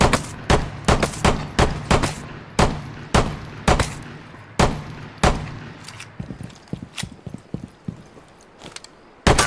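Repeated gunshots from a secondary weapon in the tactical shooter Rainbow Six Siege, a steady series of loud, sharp cracks fired one after another, then a quicker burst of lighter shots, with no talking.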